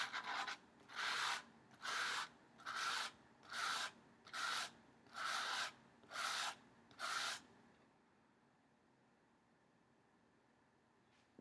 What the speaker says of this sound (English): I'm going to fast forward to more sanding